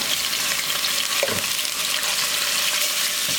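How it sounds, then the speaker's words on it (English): Chicken pieces brown in a hot pan with a steady, dense sizzle that hisses loudly and continuously throughout, a few soft clinks and stirring shifts breaking through, with no voices. "So we're ready to brown the chicken."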